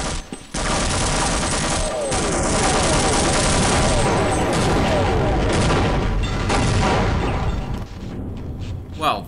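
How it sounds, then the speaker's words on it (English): A loud, dense blast of explosions and rapid gunfire-like bursts fills a Half-Life: Uplink game scene, staying intense throughout with brief dips and a sharp burst near the end. "What just exploded?"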